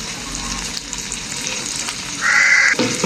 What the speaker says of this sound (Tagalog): Gigisain natin. Yan, nagisa na.